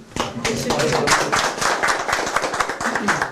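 A gathered audience claps together in a crisp, fairly close burst of individual hand strikes, the rhythm busy and slightly uneven, carrying on steadily over a brief murmur of voices.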